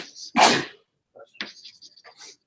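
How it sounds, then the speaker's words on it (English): One loud, close sneeze bursts out, followed by a few quieter short sounds. "There's a lot of sneezes."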